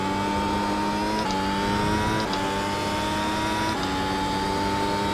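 Open-wheel race car lapping Interlagos in iRacing, the engine note loud and continuous with steady high-pitched revving that dips briefly at each gear change, no voices over it.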